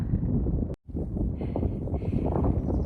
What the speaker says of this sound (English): So windy, but the views are just crazy